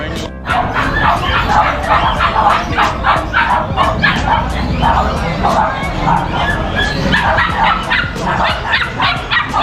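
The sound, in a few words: dogs barking and whimpering at a dog seller, including Pomeranians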